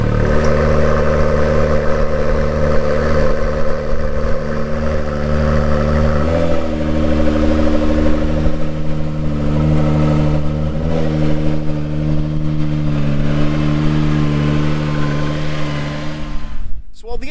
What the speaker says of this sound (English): a cold start on a 2017 Acura NSX